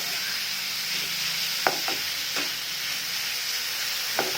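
Cumin frying in a pan, a steady close hiss of sizzling oil broken by a few sharp clicks of a spoon stirring against the metal, with no talking.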